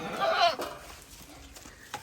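A goat on a rural hillside gives one loud, quavering bleat near the start, followed by quieter ambient sounds and a brief sharp noise at the end.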